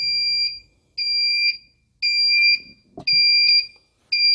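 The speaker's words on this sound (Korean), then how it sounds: "자, 지금 부저 소리가 나고 있습니다." An engine pump control panel buzzer sounds because of a battery charging connection fault. It is a loud, steady electronic tone that comes in four evenly spaced pulses of about half a second each, with a faint click between two of them.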